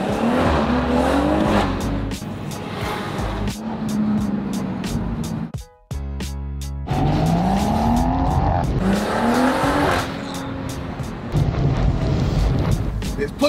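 A BMW 118i fitted with a B58 engine conversion accelerates hard through the gears, with rising engine revs, quick shifts and a brief pause, heard loud and close from inside the car with some talk.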